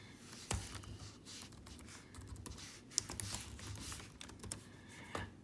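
Keys clack steadily on a computer keyboard as text is typed into an online whiteboard, a run of close, quick, uneven taps with a few sharper strokes and no talking.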